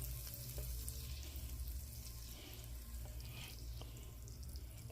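Kerrygold butter melts in a hot pan for garlic butter shrimp, making a soft, continuous sizzle and crackle that stays faint and close over a low background hum, with no talking.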